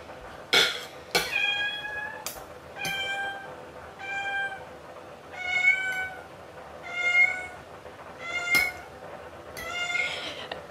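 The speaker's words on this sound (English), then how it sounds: "Simba will be meowing for chicken." A cat meows repeatedly for chicken, about eight clear, close, drawn-out cries at a steady pace with brief pauses between them, over quiet indoor background.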